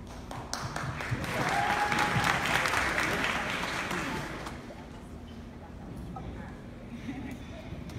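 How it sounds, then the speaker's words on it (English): Audience applause at a sports and youth nutrition summit panel, building to a broad wash of clapping in the first seconds and then thinning into scattered claps with some voices underneath. "Let's give a round of applause."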